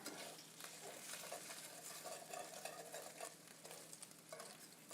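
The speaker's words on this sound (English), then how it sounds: "I don't love frying in a cannabis oil because it's getting hot, right?" Food frying in hot cannabis oil in a pan, a steady close sizzle with crackles and spatters, stirred now and then, quiet and continuous with no talking.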